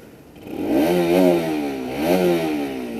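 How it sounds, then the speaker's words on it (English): A Bajaj Pulsar RS 200 motorcycle revs twice up close, its exhaust note rising and falling in two smooth swells over a steady idle. "So let's hear to the exhaust note again."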